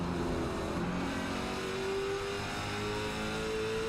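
Race car engine at Oxford Plains speedway revs steadily as it powers out of a curve, a continuous droning roar with rising pitch and constant loudness, heard alone.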